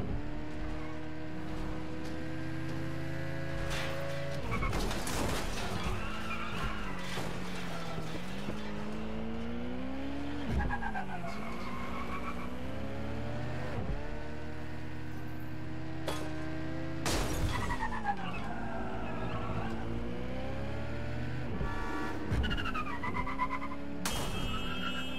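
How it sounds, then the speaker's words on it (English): A car in Watch Dogs: Legion driving fast with a continuous, wavering engine drone that rises and falls in pitch through gear changes, plus bursts of noisy skidding and impacts. "This car handles really well."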